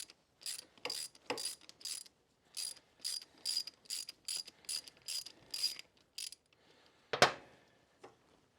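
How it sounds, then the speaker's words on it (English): A 5/8 socket ratchet works loose the neutral switch on a Harley-Davidson Sportster, giving bursts of rapid clicking pawl strokes with short pauses between them, then a single sharper metallic clank near the end, close and clear with no voices. "Take your 5/8 socket, lefty-loosey, that neutral switch, right on out of there."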